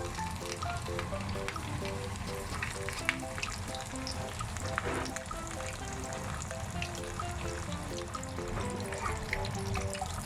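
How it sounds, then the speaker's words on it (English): A soft bubbling sizzle of breaded sardines deep frying in 170-degree oil runs steadily, with faint crackles and pops over a low background hum. "Deep frying after this color."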